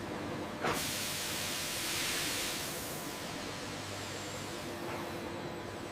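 Steam hisses steadily while setting the fabric of a sheep wool coat in a garment factory, a broad continuous hiss with a brief sharp burst near the start and a low mechanical hum beneath.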